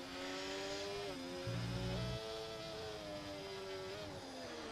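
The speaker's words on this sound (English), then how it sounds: "Can really hear this V6 is roaring with the revs down towards turn 3" A V6 race car engine roars on track at Zandvoort Park in the Netherlands, a steady, high-revving drone with several quick pitch dips at gear shifts and no talk over it.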